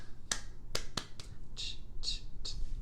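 A teacher claps a short rhythmic pattern for a class to echo back, seven sharp, close hand claps in an uneven beat with no talking over them.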